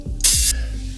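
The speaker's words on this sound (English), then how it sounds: "on the last hat of each bar I layered in this open hat" A layered open hi-hat sample in an electronic dance track gives a bright, hissy sizzle lasting about a third of a second over low bass and kick tones, fairly loud, with no voices.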